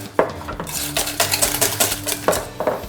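A fork clinks and scrapes against a bowl while mashing banana with natural yogurt, with quick, irregular metallic taps and strokes close up and no talking.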